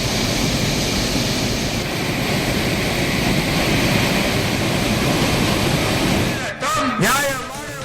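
A waterfall where tourists bathe gives a loud, steady broadband rush of falling water for about six seconds, then a voice briefly cuts in near the end.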